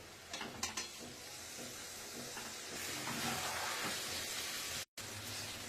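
Ginger-garlic paste and ground chili, coriander, cumin, turmeric, salt and a little sugar sautéing in oil with fried potato and onion for an egg curry, a steady sizzle and hiss with light stirring clatter near the start.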